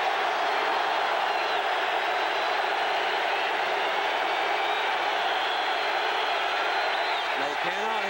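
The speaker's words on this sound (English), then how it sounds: "The Miami players are trying to quiet the crowd down at that end of the field." Loud, continuous roar of a packed stadium crowd at a 1986 Oklahoma vs Miami college football game, a steady wall of noise that barely wavers, with a commentator's voice under it.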